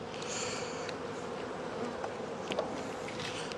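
Honeybees buzz in a hive box during overwintering work in Connecticut, a continuous soft drone with faint clicks and knocks of frames being handled.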